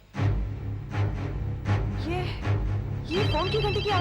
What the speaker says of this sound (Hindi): ये फोन की घंटी की आवाज कहां से आ रही है?